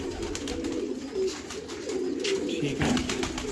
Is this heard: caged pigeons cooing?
yes